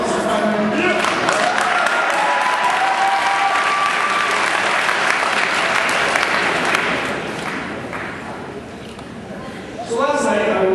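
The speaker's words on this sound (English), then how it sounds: "We have a round of applause for Spider-Man." A crowd at a valedictorian speech breaks into sustained loud applause, clapping densely for several seconds before easing off, then picking up briefly again as a voice returns at the end.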